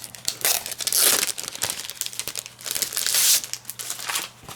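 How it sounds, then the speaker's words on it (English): Sheets of glittery paper crinkle and rustle in close, busy bursts while a shape is cut out by hand, with short pauses between stretches of handling. "So what I'm going to do is also cut him out in this glittery paper."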